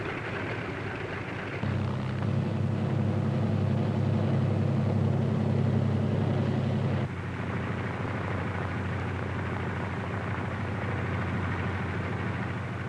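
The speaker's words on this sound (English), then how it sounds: "other C-47s move into position for their takeoff at the head of the runway." C-47 transport aircraft move into takeoff position at the head of a runway, heard as a steady, loud piston-engine drone that swells for several seconds and then settles into a lower, even rumble, with no voices.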